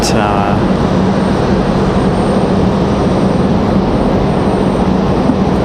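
American Airlines A320 jet on final approach at Raleigh-Durham airport, a loud, steady roar of engine noise filling the whole clip without letup.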